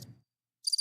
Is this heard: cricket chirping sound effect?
yes